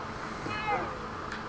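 A baby ginger cat in a survival video game gives a single short, rising-falling meow midway, set against steady background noise.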